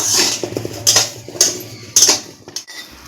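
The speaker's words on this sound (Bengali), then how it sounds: "বন্ধুরা অনবরত নাড়াচাড়া করে পেঁয়াজটা আমি ভেজে নিচ্ছি" Onions dry-roasting in a pan without oil while being stirred constantly, with repeated scraping clinks of a utensil against the metal pan.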